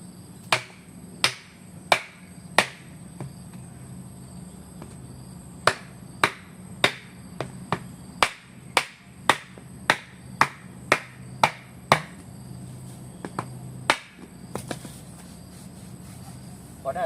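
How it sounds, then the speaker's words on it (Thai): Sharp hammer blows strike a wooden block over a pipe mouth in quick bursts, driving a fertilizer pipe, a regular run of knocks with short pauses between groups, close by, over a low steady background hum. "ในการตอกท่อนำเนี่ยต้องใช้ไม้เป็นตัวรองตอกตรง ปากท่อนะครับ"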